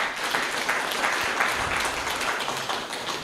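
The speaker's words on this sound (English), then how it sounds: "Could we kindly clap for them once again?" Applause rises from the audience of a panel discussion session, moderately quiet and continuous, with a room full of scattered clapping and no clear voices.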